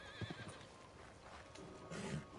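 A horse whinnies in Red Dead Redemption 2, a short, faint neigh with a few soft hoof clops over quiet game ambience.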